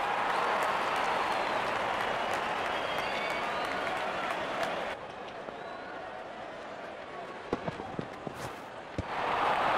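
A cricket crowd at a BPL 2024 T20 match applauds a batsman's fifty, loud sustained clapping and cheering that fades after a few seconds and then swells again, while a commentator talks.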